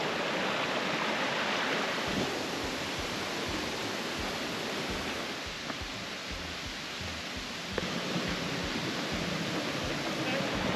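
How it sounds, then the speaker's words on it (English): A steady, loud roar of rushing river water at a crossing in the Adirondacks, broad and unbroken, like a nearby torrent or rapids. "Is that the water making that noise?"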